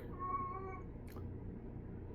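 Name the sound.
cat meowing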